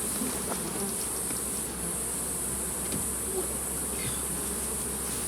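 Honey bees swarm around an opened beehive in a southern apiary during a strong honey flow, a dense, steady buzzing drone that fills the whole stretch close by, with a constant high hiss and no speech.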